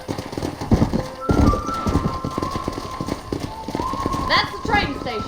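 Horse hooves clip-clop in a steady galloping rhythm in the Western video game Red Dead Redemption, close and prominent, with a voice talking over the hoofbeats.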